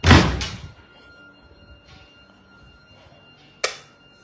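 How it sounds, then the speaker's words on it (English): A door is shut with a loud, close thud at the start, followed by a quieter room with faint clatter and a second sharp knock near the end. "Let me quickly shut this door."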